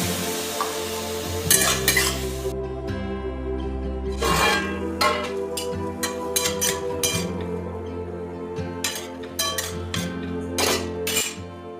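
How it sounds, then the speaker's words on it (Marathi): Sweet corn kernels steamed in a kadhai with a splash of water, stirred with a spoon that scrapes and clinks against the metal pan in repeated bursts over a steady low simmering background. "सेपरेट करून घेतलेले दाणे आपण एका कढईमध्ये टाकून त्यावर पाण्याचा शिंतोडा देऊन 4 ते 5 मिनिट चांगले वाफवून घेऊ"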